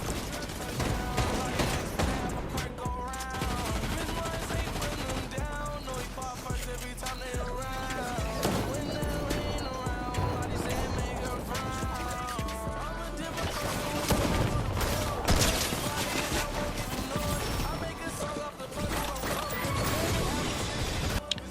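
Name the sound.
gunfire in the Fortnite video game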